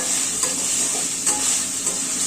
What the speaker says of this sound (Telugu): లాస్ట్లో చివ చివర్లో వేస్తాం కొంచెం ఇంగువ వేస్తాం ఇంగువ వేస్తున్నానండి